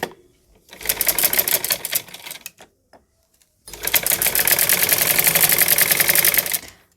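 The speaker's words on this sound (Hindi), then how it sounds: "और अब हम इसके ऊपर इस तरह से सिलाई लगाएंगे इन प्लेट्स को ऐसे बराबर में करते हुए।" A sewing machine stitches across pleats on an Afghani salwar in two loud, rapid bursts of rhythmic needle clatter, with a short quiet gap between them and no talking.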